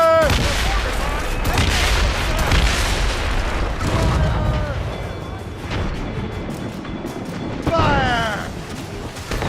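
Ship cannons fire a broadside during a naval battle in the video game Assassin's Creed Rogue, producing heavy overlapping booms and rumbling blasts amid loud battle noise, with shouted voices over it.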